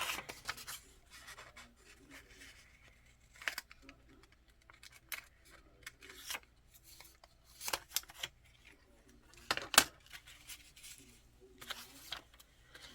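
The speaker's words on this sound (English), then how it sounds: "I could probably just use my scissors to make some of these little cuts" Scissors make small cuts in craft paper, producing soft, sparse snips and rustles at close range, quiet and intermittent with no talk.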